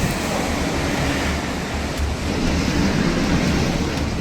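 Ocean surf in Mexico roars as a steady broadband wash of breaking waves, loud and continuous with wind buffeting the microphone, and no talking.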